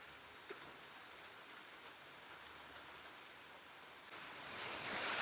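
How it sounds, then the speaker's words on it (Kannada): Heavy rain falling during a sunshower makes a steady, soft broadband hiss that swells louder near the end, with wind blowing and no voices. "ಬಿಸಿಲು ಮಳೆ ಬಂದ್ಬಿಡ್ತು ಜೋರಾಗಿ"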